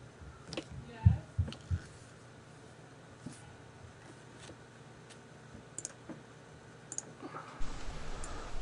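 A computer mouse clicks on a video link. A few faint, sharp clicks come close together early on, followed by sparse soft ticks over a quiet room hum.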